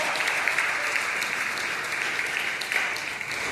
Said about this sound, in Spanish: Dele palmas de alabanza a nuestro Dios